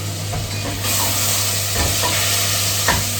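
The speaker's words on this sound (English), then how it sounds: "I'm frying up one big onion and 2 garlic cloves" A steady, loud sizzle of onion and garlic frying in oil, continuous crackling with a low hum underneath.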